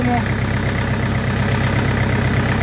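An Orion 404 tractor engine runs steadily nearby, a loud, even low rumble throughout with no change in pace.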